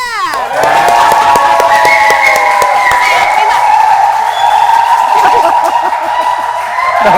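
A studio audience claps and cheers loudly and continuously, with scattered shouts rising over the steady applause.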